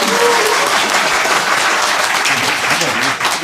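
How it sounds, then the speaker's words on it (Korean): A large crowd at an indoor political rally applauds loudly and steadily, a dense wash of clapping welcoming a speaker to the stage. "큰 박수로 환영해 주시기 바랍니다"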